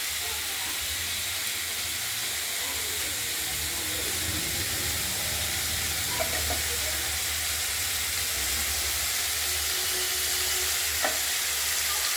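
Cauliflower and small potato pieces frying in a wok with panch phoron, chilli and bay leaf, giving a steady close sizzle and hiss with a few faint stirring clinks and no talk.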